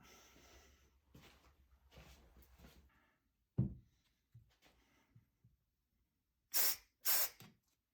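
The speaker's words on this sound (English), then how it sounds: "And then I'll spray carb cleaner in it." Two short hissing bursts of carburetor cleaner spray on a Kawasaki KLR 650 carburetor, close and loud, after a stretch of quieter handling noises and a sharp knock.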